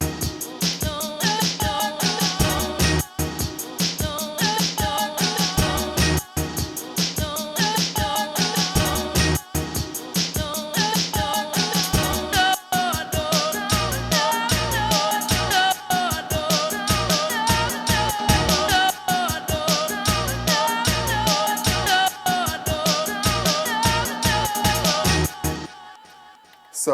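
A hip-hop beat melody chopped from a sample plays continuously and loudly, a dense looping pattern with steady rhythmic pulses, ending abruptly in silence near the end.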